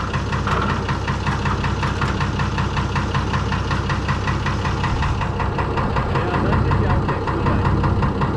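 Fordson Major tractor fitted with a Perkins straight-six diesel engine, running loud and close with a steady, heavy knocking rumble that holds throughout.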